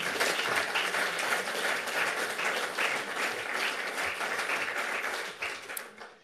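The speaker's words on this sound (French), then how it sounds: "j'aimerais bien un petit tonnerre d'applaudissements pour vous-même" A conference audience bursts into sustained applause, dense and loud for several seconds before tapering off near the end, with no voices over it.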